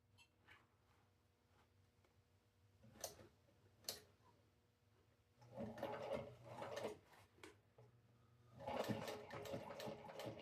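A sewing machine back stitching thick binding edges on a leather crossbody bag: faint ticks at first, then two longer loud bursts of whirring stitching separated by a pause, close and without talk.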